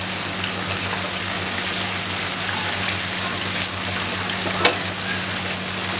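Pieces of chicken tikka fry in a pan with a loud, continuous, rain-like sizzle that stays even from start to finish, broken by a brief clink near the end and no speech.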